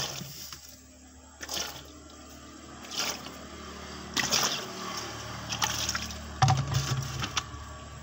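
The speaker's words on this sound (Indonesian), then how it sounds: "kita siram terus sampai air keluar." Water poured into a two-door refrigerator to flush its blocked drain, soft trickling and splashing in uneven bursts, fairly quiet and close, with no talk.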